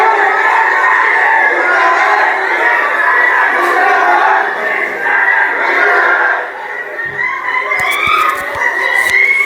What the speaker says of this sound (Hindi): इसमें लोग पुलिस प्रशासन को लेकर मुर्दाबाद बोल रहे हैं